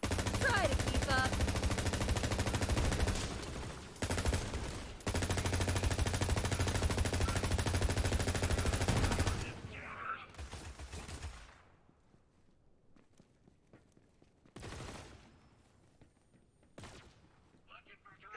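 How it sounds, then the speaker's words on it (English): Rapid automatic fire from the Warlord rifle in Borderlands 3, loud sustained bursts for several seconds with brief pauses, then fading to a few scattered distant shots. "Firing from the hip on the Warlord's pretty good."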